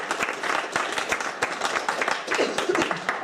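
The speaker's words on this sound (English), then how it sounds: "I'm just going to enjoy that applause now because it might not come." Steady, dense audience applause at a breakfast talk welcomes speaker James Butler, with many hands clapping continuously at an even level.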